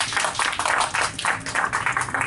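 A short burst of audience applause at a book launch for Los Perros Perdidos, with brisk, uneven clapping from a small crowd close by and no talking over it.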